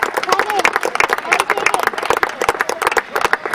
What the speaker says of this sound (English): I'm going to give you a big round of applause